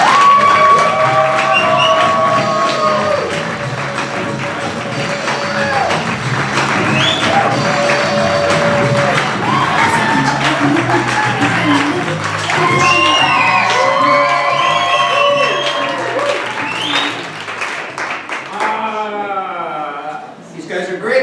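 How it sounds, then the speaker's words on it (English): A lively audience cheers a class, whooping and shouting over scattered clapping, many excited voices overlapping for a long stretch before fading near the end. "Please, please, please give a warm round of applause to my Intro 2 class,"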